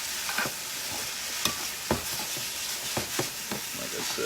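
Rib-eye lo mein is stirred in a hot pan with soy sauce and sesame oil, a steady sizzle punctuated by repeated sharp scraping and tossing strokes at close range.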